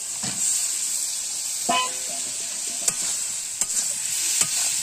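Potatoes and fried pointed gourd stir-fried in a pan: repeated spatula scrapes and clicks over a constant high sizzle, with a short car horn toot sounding in the background partway through.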